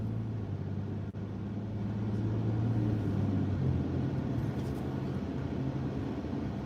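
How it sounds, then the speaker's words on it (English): Street traffic rumbles steadily at a moderate distance, a continuous low engine drone with a brief click early on and soft hiss of passing vehicles, no voices. "Oh, for sure, it's just a bunch of traffic."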